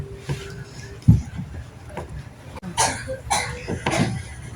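A few short coughs break out amid quiet rustling and handling noises, with some soft voice sounds nearby.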